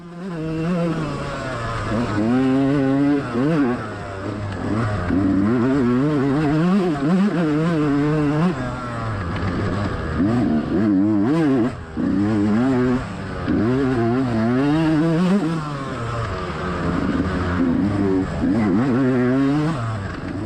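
A dirt bike engine in a GNCC off-road race at the Buckwheat 100 rides close and loud, its pitch rising and falling continuously as the rider shifts and accelerates through the course.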